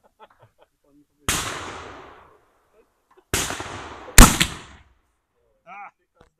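Three sharp gunshots ring out at an outdoor shooting range, each loud and close with a decaying echo, separated by pauses, followed by a brief voice.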